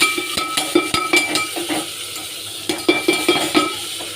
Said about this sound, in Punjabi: ਉਧਰੋਂ ਤੜਕਾ ਲਾ ਲਈਦਾ ਤੜਕਾ ਲਾ ਕੇ